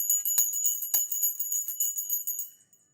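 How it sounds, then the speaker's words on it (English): A small bell rung rapidly and repeatedly, bright and ringing, with quick strokes for about two and a half seconds before fading out. "Let me get a bell or something."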